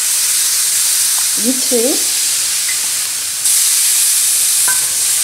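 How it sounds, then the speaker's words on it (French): Almonds stirred in a hot pan and sprinkled with water for sellou, giving a steady sizzle and hiss with a few brief stirring scrapes, close and fairly loud, with a short spoken phrase over it. "je continue à mélanger mes amandes et juste les arroser comme ça"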